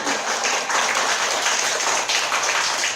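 A church congregation applauds loudly and continuously, a dense, close wash of many hands clapping that fills the room without a break.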